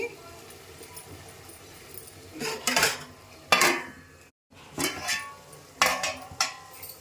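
A lid goes onto a pot of simmering prawn curry with several metallic clanks and rattles, and a speaking voice can be heard in the kitchen.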